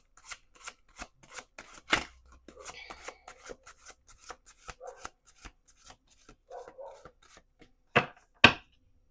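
Tarot cards riffle and slap together in a run of quick, crisp shuffles, close and fairly quiet, ending with two louder snaps.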